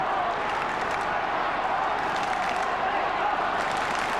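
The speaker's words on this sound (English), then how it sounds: "Plenty of clapping, plenty of cheering." A 1997 qualifying-final football crowd at a floodlit park applauds and cheers in a steady, dense wash of clapping and voices that holds at an even level throughout.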